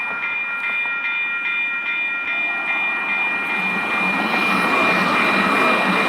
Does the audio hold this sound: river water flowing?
no